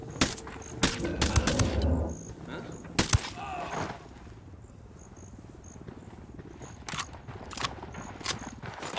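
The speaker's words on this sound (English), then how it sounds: "Shooting these fuckers." Gunfire in the Ghost Recon Wildlands video game during a raid on a cartel camp: sharp, fairly loud shots in scattered bursts over a steady cricket chirp, with a voice speaking in between.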